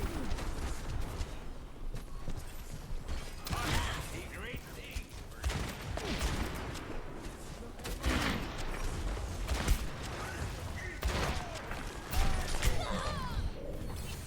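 Rapid gunfire from the video game Overwatch, bursts of shots and impacts crackling continuously with clangs and crashes, dense and loud throughout, mixed with game effects.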